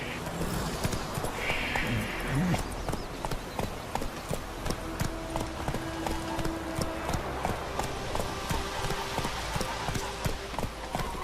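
Roach the horse gallops in The Witcher 3, played in VR, with rapid, regular hoofbeats that clop steadily from start to finish and a brief faint voice early on.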